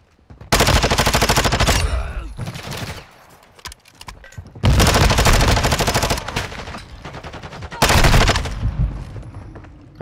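Heavy automatic gunfire from a Call of Duty: Modern Warfare II ranked Hardpoint match comes in three loud, sustained bursts of rapid shots, separated by short lulls filled with quieter game noise.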